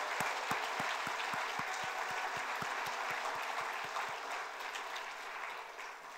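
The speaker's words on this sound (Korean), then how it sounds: "박수로 하나님께 영광 돌리시기를 바랍니다" A church congregation at a New Year's Eve service applauds in unison, a steady wash of clapping over a regular rhythmic beat, heard at moderate distance and slowly easing off.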